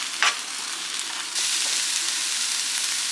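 Eggs frying and being stirred in a pan for Kerala egg thoran, a steady close sizzle with a brief scrape near the start, the frying hiss growing louder and denser partway through.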